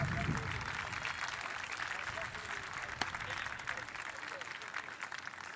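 A ceremony audience claps at a baseball game, a steady wash of applause heard from a distance, moderately faint, running the whole time with no clear voices on top.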